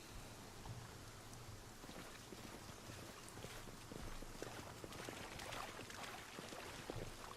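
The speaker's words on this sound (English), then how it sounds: "And it's raining." Rain falls steadily in the fantasy role-playing game Pathfinder: Kingmaker, a continuous soft hiss of drops with scattered patters, even and moderately quiet throughout with no voices.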